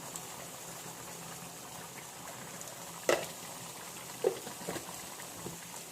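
Curry leaves sauté in a pan, a faint, steady bubbling sizzle with a couple of brief louder pops and crackles, no voices.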